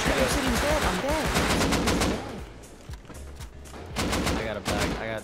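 Rapid automatic gunfire in the survival video game Rust, bursts of shots over a dense mix, briefly easing before firing picks up again, with a voice talking faintly underneath.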